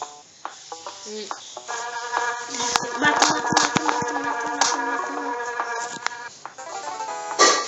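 Buzzing bees flying around in a video game, a steady insect drone with tonal game sounds layered over it, moderately loud with no talking.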